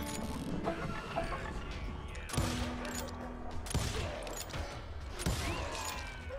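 Several sharp gunshot bursts from the video game Call of Juarez: Gunslinger ring out at irregular intervals over a dense, mechanical background din; no one is talking.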